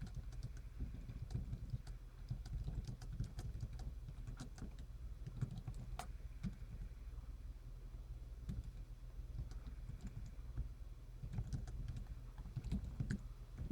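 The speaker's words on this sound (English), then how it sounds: "And we can start typing." Fingers type on an EC Technology portable folding keyboard with small keys, a quiet, close, uneven patter of light clicks and taps running steadily throughout with no talking.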